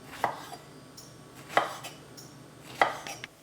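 A knife chops strawberries into small pieces on a board, three crisp, evenly spaced cuts about a second apart, close and clear with no talking.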